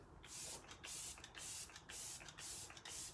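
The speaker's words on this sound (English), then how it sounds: "I'm going to go in with Let It Set Refreshing Spray." Let It Set Refreshing Spray, a makeup setting mist, is sprayed in a quick series of about six short close hissing bursts with brief pauses between them.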